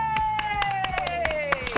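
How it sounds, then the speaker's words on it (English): A studio audience claps in quick, rhythmic unison, the sharp beats landing under a sustained, slowly falling tone and some background voices. "Clap it up, clap it up."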